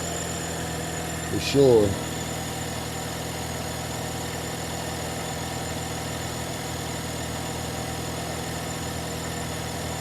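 A 2011 Nissan Juke idles with a noisy alternator, producing a steady low engine hum with a faint whining tone throughout, interrupted only by a brief spoken remark near the start.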